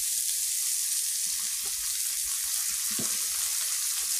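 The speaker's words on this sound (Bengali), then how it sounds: "এই যে কষা হচ্ছে, পেঁয়াজটা কষা হয়ে গেছে।" Onions sautéing in a pan, a steady, soft sizzle with a few faint stirring scrapes near the end and no talking.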